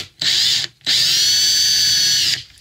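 Power drill boring a 12.5 mm hole while making a circle jig for a milling machine: a brief whine, a short pause, then a longer steady high-pitched run before the motor stops, loud and close.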